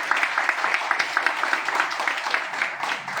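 An audience in a state party council assembly hall applauds, a steady, dense patter of many hands clapping together at close range, fairly loud and continuous throughout.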